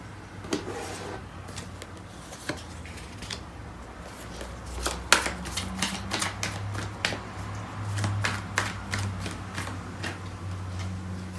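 Tarot cards being shuffled and drawn by hand, producing soft riffling, flicking and tapping card sounds in uneven bursts, fairly close, with no speech over them.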